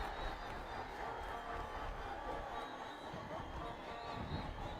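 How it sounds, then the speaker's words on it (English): A big crowd of around 15,000 at an international cricket ground for a Nepal versus UAE match gives off a steady, distant, diffuse roar, fairly faint and unbroken, with no clear individual voices. "I can hardly hear myself here in the commentary box because of the roaring crowd and the grass banks."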